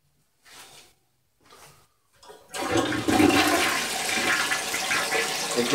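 A household toilet flushes in a dim bathroom, opening with a few faint thuds before a loud, steady rush of water that fills the rest of the clip close up, with no talk over it.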